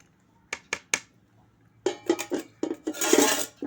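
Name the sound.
mixing carrot pickle with a spatula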